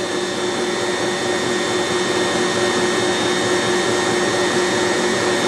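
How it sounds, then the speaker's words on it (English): An electric mixer whisking caramel pound cake batter, a steady loud motor whir that hums on without a break and with no talking. "give it another whisk for just a minute"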